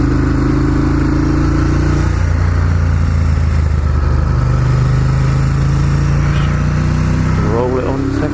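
A Ducati Monster 1200S engine pulling hard in second gear on a dual carriageway, a loud continuous drone climbing steadily in pitch under constant wind roar, with a brief rev flutter near the end.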